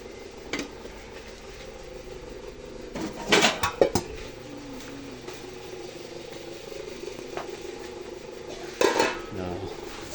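A metal cooking pot is set down on a homemade charcoal stove, producing a few clattering metallic knocks and scrapes in two short clusters, close and fairly loud, over a quiet background.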